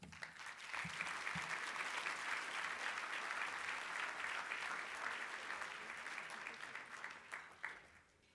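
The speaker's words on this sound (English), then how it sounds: "A round of applause again, please." Sustained applause from a dinner audience at an Urban League annual banquet, a dense even wash of clapping that carries on for several seconds before tapering off at the end.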